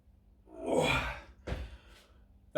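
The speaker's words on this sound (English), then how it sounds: "You can see from my breathing." Heavy, audible exhales and gasps from a man straining through dip to L-sit calisthenics reps, close and clear with brief pauses between breaths.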